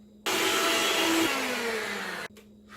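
An electric mixer whisks powdered sugar into frosting for cranberry bliss bars, a steady loud motor whir that starts abruptly, drops slightly in pitch midway and cuts off after about two seconds.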